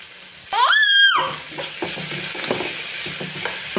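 Onions with ginger-garlic paste fry in a pan for an egg curry, a steady close sizzle with scraping stirs, briefly overlaid early on by a sharp tonal squeal.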